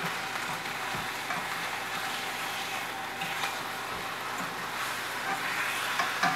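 Chicken and meat sizzling steadily in a very hot pan as pieces are turned, a continuous crackling fry with light scraping and clinking of a utensil against the pan, no talking.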